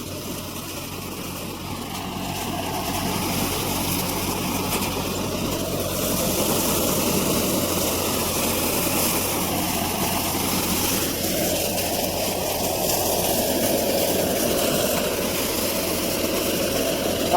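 A John Deere tractor engine, about two years old, runs on an Indian farm, giving a loud, steady, continuous drone that builds slightly in the first seconds and then holds level, with no voices.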